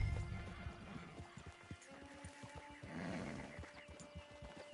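Horse in the video game Red Dead Redemption, hooves clip-clopping in a steady walking rhythm near the listener alongside a soft neigh, fairly quiet over faint game ambience, with no talk.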